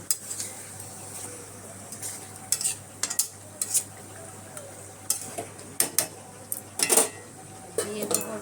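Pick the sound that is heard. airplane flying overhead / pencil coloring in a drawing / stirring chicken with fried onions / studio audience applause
stirring chicken with fried onions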